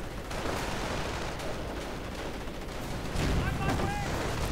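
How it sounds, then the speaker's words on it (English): Explosions from mortar rounds and blitz grenades striking a house in a World War II strategy game, a dense rumbling barrage that swells louder near the end with whistling tones over it. "House getting mortared, getting grenaded, blitz grenades, in fact."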